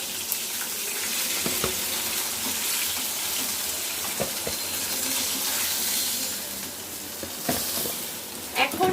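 Steady, continuous sizzling of fish frying in hot oil, close by, with occasional clinks and stirring sounds.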